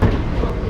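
Inside a Taoyuan Airport MRT express train, a loud steady rumble of the rail car fills a brief moment with no talking.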